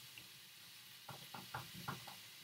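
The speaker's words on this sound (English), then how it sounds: "All right, so frying up my egg in there." An egg frying in a pan with purple cabbage gives a steady close-up hiss, broken near the end by a run of about five soft knocking taps and scrapes.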